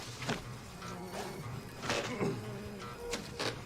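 A swarm of killer bees buzzes in a steady, faint drone, with a few louder passes as individual bees fly close to the microphone.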